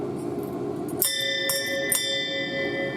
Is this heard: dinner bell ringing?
yes